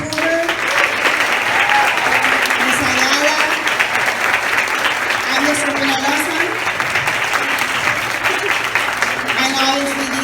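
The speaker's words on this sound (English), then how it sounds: "big round of applause to the teachers that coordinated this" Conference audience applauds the teachers with sustained, dense clapping that fills the room, while a voice over a microphone speaks through it.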